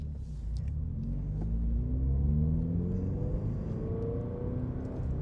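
A Subaru BRZ/GR86 engine on a highway drive, with a steady loud rumble and rising, sweeping rev tones as the revs climb and fall through gear shifts, heard from inside the car.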